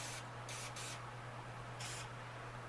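Three or four short hissing bursts of cleaner sprayed onto a Smith & Wesson M&P 9 Shield pistol, heard up close over a low steady hum with no talking.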